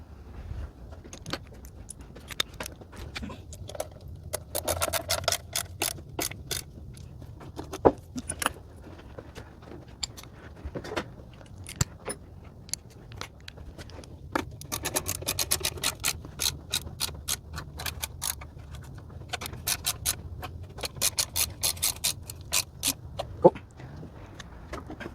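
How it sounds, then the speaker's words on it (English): Valve cover bolts being snugged down on a 318 engine in a Dodge D150 pickup, with repeated metallic clicks of a ratchet and light jangling of tools, intermittent and close, bursts separated by brief pauses. "what I'm doing now is tightening all the bolts down"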